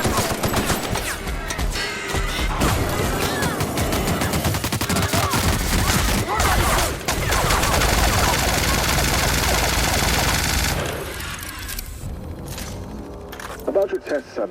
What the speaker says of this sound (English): Fire the weapon!